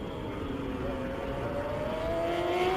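F1000 race cars at Snetterton with a steady engine drone and a rising whine, sustained and fairly distant.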